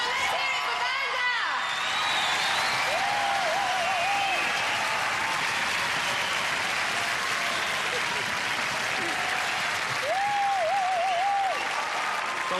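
A television studio audience applauds a winner named Vanda at the 1992 UK Gladiators series final. The clapping is loud and steady and fills the whole stretch, with occasional whoops and cheers rising out of it.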